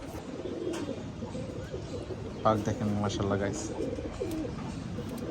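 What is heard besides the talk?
pigeons cooing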